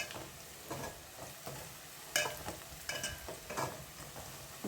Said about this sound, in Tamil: அதை சேர்த்து நல்லா வதக்கிக்கிடலாம் இது நல்லா வதங்கணும் மிளகாய் நல்லா வதங்கி வரணும்